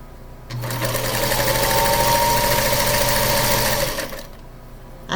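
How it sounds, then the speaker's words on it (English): A sewing machine stitches quilt pieces together for a holiday cardinal quilt, running in one steady burst for several seconds with a close mechanical hum and rattle before it stops. "Let me sew these 2 and put them on there."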